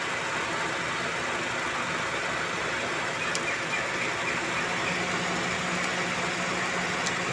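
A Honda Jazz engine idles at high RPM with a stuck idle speed control valve, a steady continuous hum close to the microphone with no breaks.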